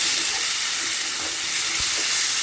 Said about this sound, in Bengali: সব মশলাটা এবার ভালো করে আমি কষে নেব যতক্ষণ না আমার তেল রিলিজ হচ্ছে এটা থেকে